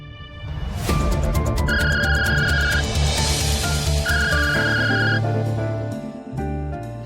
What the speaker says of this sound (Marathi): वरुणचा फोन.